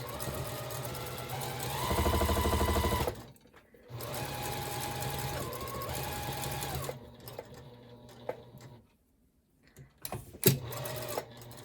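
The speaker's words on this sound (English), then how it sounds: "I'm going to open the seam binding, that fold that's in there, and try to sew along on that fold" A sewing machine runs stitches along the open fold of seam binding on a bike basket bag, with a fast steady motor whir in bursts, a short pause, then slower start-stop stitching and a few clicks.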